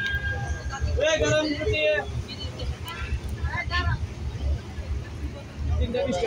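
A train crossing a rail bridge over a river rumbles along steadily in the background while people talk nearby, voices rising over the continuous low rolling noise.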